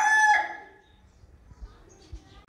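A rooster crows loudly once at the start, then fades into quiet background with a few faint rustles and thumps.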